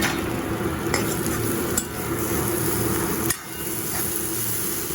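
Fish frying in a little oil in a pan, a steady loud sizzle that fills the whole stretch. Occasional scrapes and taps of stirring break through, with one sharp knock near the end.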